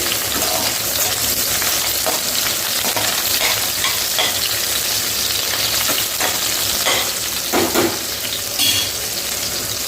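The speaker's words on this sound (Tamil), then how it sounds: "இது நல்லா பொரிஞ்சு வரட்டும், நம்ம பார்க்கலாம்." Bitter gourd frying in oil for Tamil kuzhambu, a dense close sizzle that runs throughout, with occasional stirring clatter and no talking.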